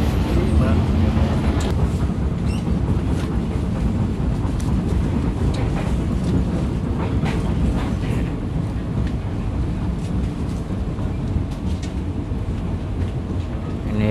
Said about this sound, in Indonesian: Ini kereta api Tegal Bahari masuk pemberhentian ketiga dari stasiun Pasar Senen, yaitu stasiun Jatibarang.